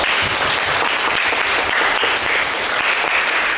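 An orientation-event audience claps for the organizing committee, a dense, loud, steady wall of applause from a full room that carries on without pause throughout.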